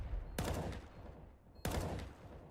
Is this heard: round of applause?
no